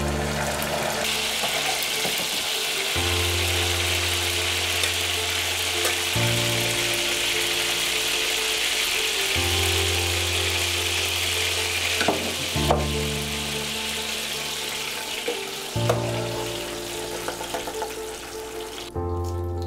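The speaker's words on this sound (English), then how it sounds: "I let that boil for a little bit in the frying pan" Steady loud sizzling of kimchi frying in oil and butter in a hot pan, with a low hum and occasional stirring clatter throughout.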